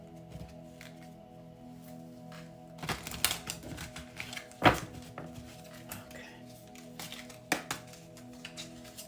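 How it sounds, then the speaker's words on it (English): Tarot cards being shuffled by hand indoors, giving quiet close riffling and several sharp snapping clicks and taps spread irregularly across a soft, low background hum. "one more shuffle."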